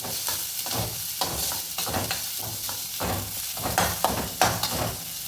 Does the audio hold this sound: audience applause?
no